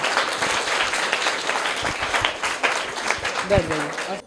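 Audience applause for a young girl who won a school knowledge competition, dense steady clapping from a crowd lasting several seconds, with a brief voice cutting in near the end.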